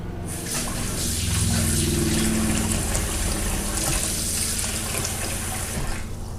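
Tap water running steadily over a peeled hard-boiled egg being rinsed of shell bits, a continuous close splashing stream that shifts slightly as the egg is turned.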